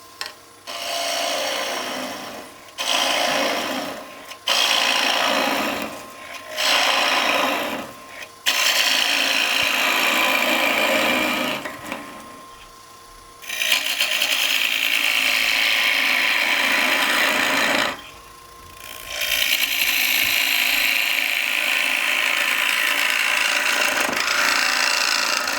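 A 3/8 woodturning gouge cuts into spinning wood on a lathe while making chopsticks and a rice bowl, giving rough, airy scraping passes that start and stop in repeated bursts, then run longer near the end.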